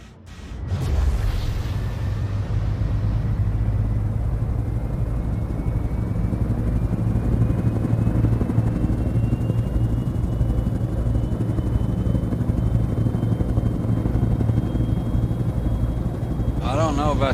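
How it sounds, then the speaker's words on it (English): A pulsing spaceship engine in Star Citizen drones continuously, loud and close, with a steady low throb and a slowly rising whine layered over it for the whole stretch. "I don't know about that engine, the way it pulses, I think it's about to blow up."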